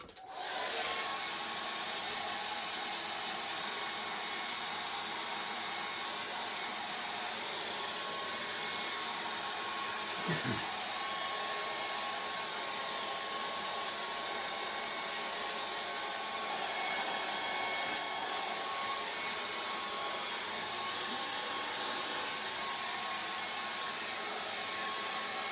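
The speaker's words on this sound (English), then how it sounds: "So I'm going to dry him off in the air dryer." Hair dryer blowing on a watercolour portrait painting, a loud steady whooshing hum running unbroken for the full length, with one brief bump partway through.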